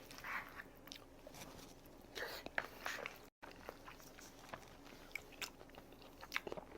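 Soft close-up chewing and biting of jjajangmyeon, black bean noodles mixed with sauce and meat, served at a Hong Kong Banjeom restaurant in Osaka, Japan; quiet intermittent mouth sounds with faint slurps.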